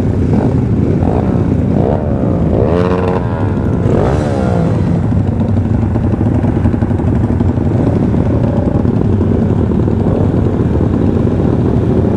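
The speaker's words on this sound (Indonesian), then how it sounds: "Helikopter." A helicopter passes overhead outdoors at night, its loud rotor and engine roar dominating a continuous heavy rumble that swells and fades.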